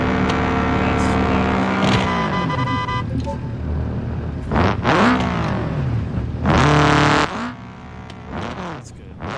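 A car engine revs and rises in pitch in the game BeamMP, with a few loud bursts of acceleration and gear shifts, mixed with game-style engine audio.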